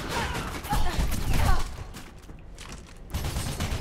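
Gunfire striking the player in Mirror's Edge: dense, rough bursts of shots and impacts that swell around the middle, drop back, then pick up again near the end.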